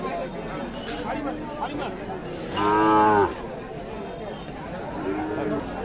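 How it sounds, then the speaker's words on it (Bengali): A Sahiwal bull lets out a single loud moo partway through, heard at a busy cattle market over a constant hum of crowd chatter and voices. "এখানে একটা আমরা বড় সাইজের একটু দেখছি ষাঁড়"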